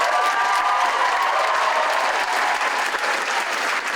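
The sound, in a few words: festival audience applause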